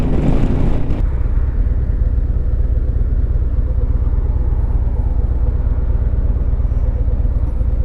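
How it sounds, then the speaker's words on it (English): A Harley Davidson Road Glide bagger motorcycle comes to a stop: a burst of wind rush gives way to a loud, close, steady low engine rumble that carries on to the end. "that was such a clean stop"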